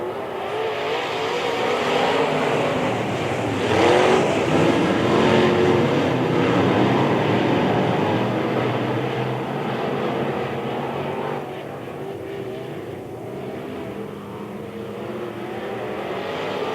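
B-modified race cars roar past together on the Springfield Raceway oval during a Turkey Bowl heat race, engine noise swelling and fading as the pack passes, loud and continuous.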